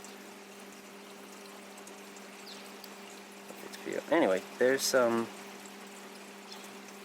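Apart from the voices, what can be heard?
water flowing through NFT hydroponic growbed system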